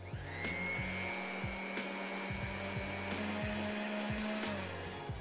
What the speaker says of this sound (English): we're just gonna get to sanding this thing